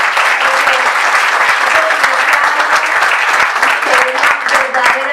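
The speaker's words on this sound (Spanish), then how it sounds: "de verdad, un aplauso para Jonathan." Loud, sustained audience applause fills a therapy and disability talk venue, steady dense clapping throughout with no pause.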